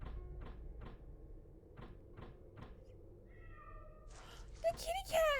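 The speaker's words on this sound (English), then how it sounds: "It's the kitty cat!" A cat meows a few times, short and fairly close, in a creepy video game, following a series of evenly spaced soft knocks or footsteps in a quiet, sparse soundscape.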